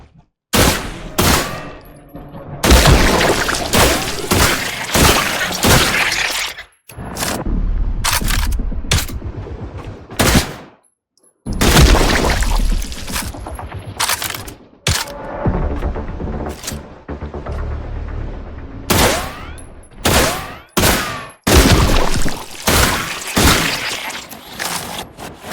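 Gunfire in the video game The Last Caretaker, fought against robots: loud bursts of shots and rapid automatic fire with sharp impacts come in dense volleys across most of the stretch, broken by a few short pauses.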